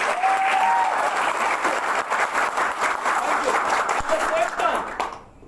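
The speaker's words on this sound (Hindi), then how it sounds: "एक जोर से ताली बजाइए" Crowd at a business leadership meeting in New Delhi claps loudly in a sustained burst, with a voice calling out briefly, before the applause cuts off at the end.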